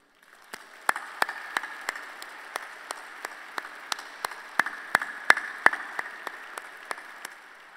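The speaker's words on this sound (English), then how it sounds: "I would like for you to give a resounding applause to all of those persons." Audience applause at a 50th anniversary gala, a fairly faint, thin patter of clapping from a modest crowd, individual claps standing out sharply in an even rhythm for several seconds.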